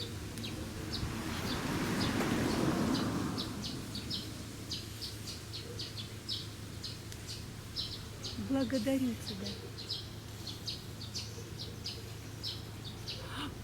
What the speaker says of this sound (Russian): Воробьи расчирикались.